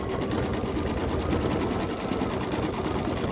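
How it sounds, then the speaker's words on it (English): An embroidery machine stitches over the top of a Halloween quilt block design, making a steady, dense, rapid mechanical whir that stays loud and even throughout with no voices. "And then it stitches over the top to make it really stand out."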